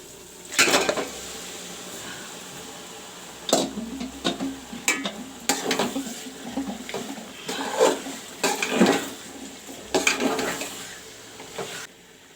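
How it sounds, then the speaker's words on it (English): Mutton goes into a pan of browned ginger, garlic and green chili paste, with repeated metal clatters and scrapes of utensil against pan over a low frying sizzle, the knocks coming in irregular bursts close by. "Now I will put in the mutton."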